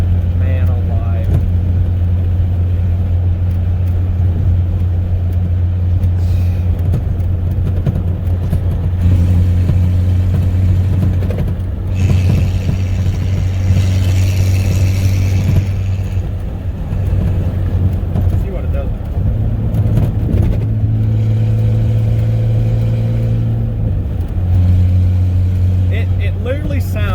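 A straight-piped 1995 Ford F150 with the 4.9 inline-six idles with a steady, loud exhaust drone and rises in several revs, heard close by and alone throughout.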